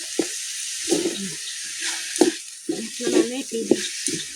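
A steady hiss of sizzling from water hitting a hot pan runs throughout, with short bursts of voices talking over it.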